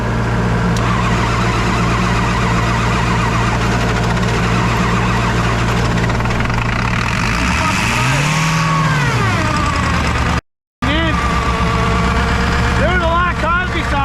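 A Ford 7.3 Powerstroke diesel truck engine idles in the snow after a cold start, close and loud. It holds a steady, rough clatter, then swells in a brief rev before settling back, and a short dropout breaks the sound near the end.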